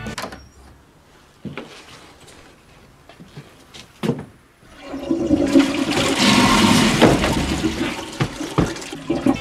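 Toilet flushing in a comedy film scene by Leonid Gaidai: a few soft clicks and knocks, then a loud, close rushing flush that rises and continues for several seconds.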